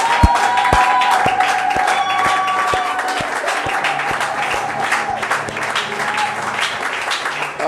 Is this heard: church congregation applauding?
yes